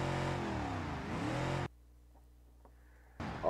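A four-door car's engine in BeamNG.drive roars loudly, its revs rising and dipping, then cuts to near silence before the roar returns at the end.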